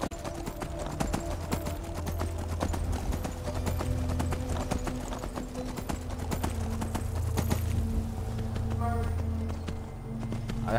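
Horse hooves clip-clop in a rapid, steady galloping rhythm in the video game Skyrim, loud and continuous, with a brief whinny-like sound and faint background noise.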